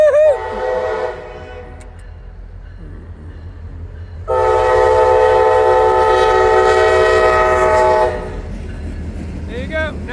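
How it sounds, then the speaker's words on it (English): A locomotive horn blares in two long blasts over the steady low rumble of two CSX diesel locomotives running light, passing close by. "there's a train coming. It's 2 CSX power units running light."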